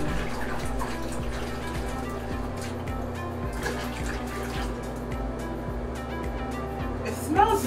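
Water pours steadily from a tap into a container to wash synthetic wigs with Arm & Hammer detergent, a continuous close rushing splash with a faint rhythmic knocking underneath.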